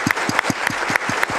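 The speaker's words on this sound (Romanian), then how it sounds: "o primim cu multe aplauze pe nașa Viorica Chiorcio." Audience at a Romanian folk music television show applauding a guest on stage, steady rhythmic clapping in unison at a moderate level, alone without speech.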